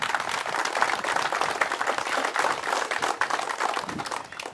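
Crowd applause at a public works groundbreaking in a neighborhood, steady dense clapping lasting over four seconds with a slight rise and fall, moderately loud and unaccompanied by speech.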